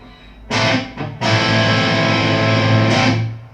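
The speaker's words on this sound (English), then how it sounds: "And now some crunch tones" A 2002 PRS Custom 22 electric guitar plays distorted crunch tones: a short strummed chord, a brief pause, then a long ringing chord that sustains and fades near the end. It is loud and close, with no voices.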